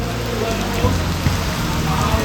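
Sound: continuous rain

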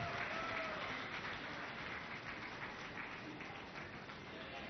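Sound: loud applause from the audience for a prize winner

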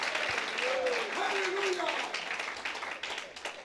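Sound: church congregation applause

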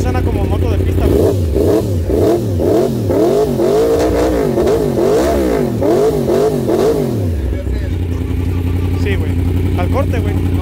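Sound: track motorcycle engine revving, sounds like a car

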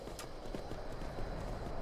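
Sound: horse hooves in Skyrim, a video game

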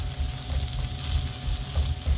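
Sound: tomato paste and mirepoix frying while stirred in pan

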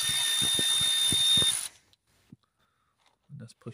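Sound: ratchet removing 8mm bolts on Ford Focus alternator

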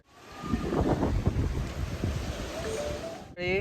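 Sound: wind blowing

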